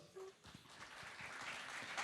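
Faint applause from an audience rises and continues steadily, distant and soft, filling the room with a wash of clapping.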